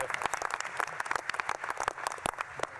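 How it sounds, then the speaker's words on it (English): An audience at a National Space Council meeting applauds, a steady patter of many hands clapping for a few seconds at moderate distance. "how about another round of applause for Secretary Ross and Secretary Chao"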